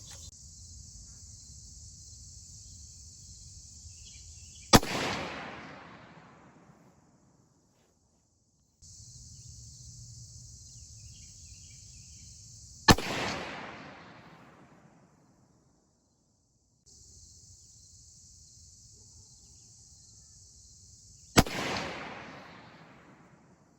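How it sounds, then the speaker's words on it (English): Three separate rifle shots from a 6.5 Creedmoor Savage 110 firing Hornady ELD-X ammunition, each a sharp loud crack with a short echoing decay, spaced about eight seconds apart over steady insect chirping outdoors. "we'll shoot 3 more at the lower target"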